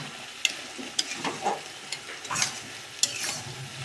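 Potatoes and chicken are stir-fried in a hot pan, spatula clicks and scrapes landing at irregular intervals over a steady sizzle.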